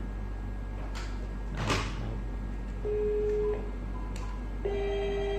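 A telephone handset is hung up on a business phone line connected through NEC SV9100 and Siemens 3550 exchanges. There is a single sharp clunk, then plain electronic line tones that come and go over a quiet hum.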